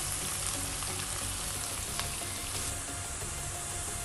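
Onion hits hot oil in a kadhai already holding whole masalas, giving a dense, continuous sizzle close by with no voices.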